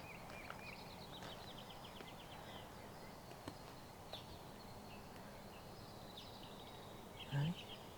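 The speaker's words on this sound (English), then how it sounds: "I love to come out very early in the morning and listen to the bird." Birds sing in the early morning outdoors with traffic nearby: scattered high chirps and short trills repeat faintly over a low background hum, with a brief thump near the end.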